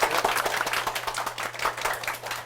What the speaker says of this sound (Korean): 두 분의 그 게스트분들한테 박수 부탁드리겠습니다